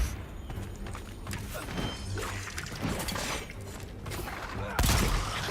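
Gunfire in a video game fight, dense bursts of shots with a shattering crash and a heavy thump near the end, loud and continuous.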